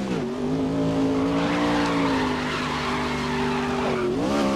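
Truck tires skid loudly and continuously in the racing game Grid's pro truck challenge, a sustained squeal layered over a steady engine drone, with a pitch dip near the end.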